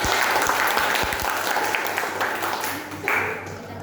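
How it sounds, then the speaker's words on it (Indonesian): A class of schoolchildren claps together at the end of a lesson, a loud burst of many hands that thins out and fades over a few seconds, with some voices mixed in. "tepuk tangan buat semuanya"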